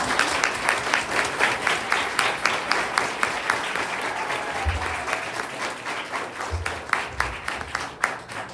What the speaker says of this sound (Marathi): सो या किंडरगार्टन टू 3rd ग्रेडच्या सगळ्या मुलांसाठी एकदा आपण जोरदार टाळ्या वाजवूया